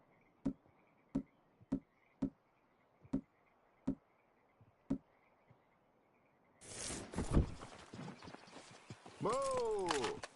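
Horse hooves in Red Dead Redemption II clop in about eight evenly spaced, crisp hits over a quiet background, followed by a burst of louder movement noise and a voice.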